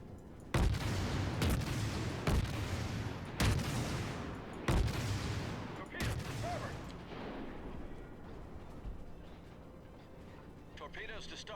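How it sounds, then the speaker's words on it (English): Naval artillery fire in World of Warships with the Krasny Krym cruiser: a series of heavy booming salvos about a second apart, loud and echoing, then fading into a rumbling ambience with faint game sounds. "Oh, we're under fire."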